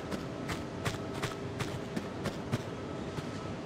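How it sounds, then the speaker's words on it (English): Footsteps in the Tomb Raider II Remastered diving area, a steady run of light thuds at about two per second over dense machinery-like background noise, moderately close. "I hear feet though."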